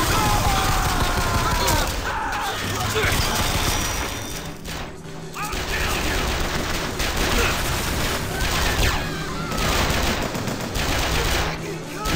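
A gun trap turret in a video game firing sustained rapid bursts of automatic gunfire, loud and close, with crashes and game effects layered over it and some talk underneath.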